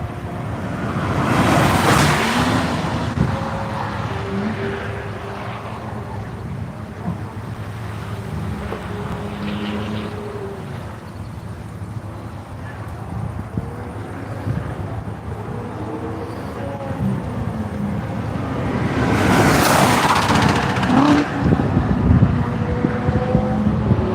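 Porsche race car lapping the track during a One Lap of America session at NCM Motorsports Park, its engine swelling in two loud passes near the start and end, with wind-buffeted rumble between and no talking.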